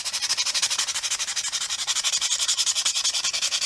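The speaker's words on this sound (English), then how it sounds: "I'll have to get some sandpaper onto that. Try and get those burrs off there." Sandpaper rubbed back and forth over a damaged brake part on an XT Falcon to remove burrs, a fast, even rasping rhythm of short strokes, close and fairly loud, with no talking.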